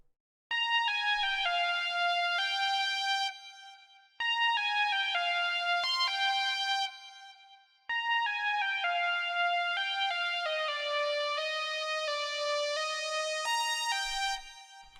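Bright synth lead built in FL Studio for a 90s R&B beat plays a stepwise melody in three loud phrases with short gaps between them, rich in harmonics and alone without talk.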